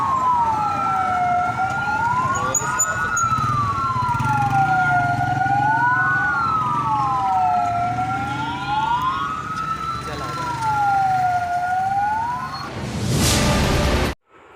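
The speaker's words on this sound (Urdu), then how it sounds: "ریسکیو کی گاڑیاں موقع پر پہنچ گئی" Rescue vehicle sirens wail loudly during a Muharram procession, with two sirens rising and falling out of step with each other over a rumbling background of traffic and crowd, ending abruptly.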